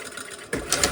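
A sewing machine stitches a zipper fly on a cut-on fly, a brief close whirring run that jumps louder halfway through with rapid mechanical stitching clatter.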